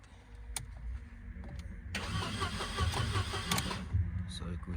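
Mercedes-Benz W204 engine cranking briefly, then catching and starting into a steady running idle, close and fairly loud, with a person talking at points.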